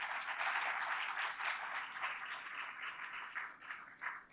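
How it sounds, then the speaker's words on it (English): Audience clapping to welcome a lecturer at a medical awareness talk, a fairly faint, steady patter of many hands that fluctuates slightly in intensity throughout. "Have a good clap for him."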